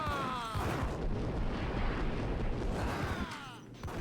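Continuous loud gunfire and booming shots fill a Max Payne shootout, dense and close throughout before tailing off at the end.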